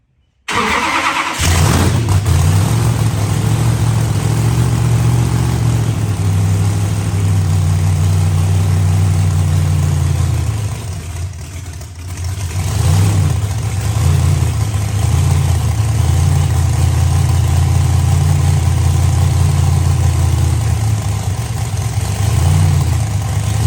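A blown 1941 Willys engine, run for the first time after ten years of sitting, cranks and catches, then idles with a loud, steady rumble that dips briefly before settling back into a constant run.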